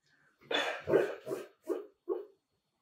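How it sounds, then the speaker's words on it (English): A pet dog named Peaches woofs softly while dreaming, giving five short, muffled barks in an even rhythm over about two seconds, fairly close and alone in a quiet room. "my dog Peaches is dreaming in the background"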